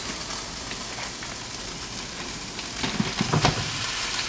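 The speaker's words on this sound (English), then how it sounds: "You want to add beef to it. That'd be like a loud sound." Ground beef sizzling loudly as it lands in a hot pan, a steady broadband frying hiss that swells with a few sharper crackles and pops near the end, close and alone.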